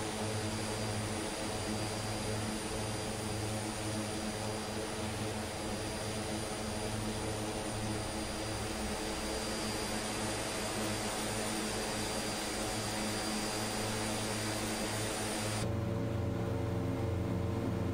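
An Aerosoft Twin Otter propeller plane drones steadily in a flight simulator over Kodiak Island, Alaska, a loud continuous engine and propeller hum with a constant high whine that shifts in tone near the end.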